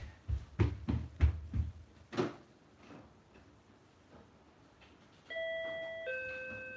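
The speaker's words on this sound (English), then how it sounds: "oh, I just heard the doorbell." A two-tone electronic doorbell chime rings out clearly after a few seconds of scattered thumps and handling noise, its tones ringing and lingering.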